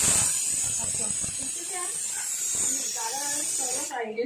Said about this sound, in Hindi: ये क्या अजवाइन से इसमें छौंक लगेगा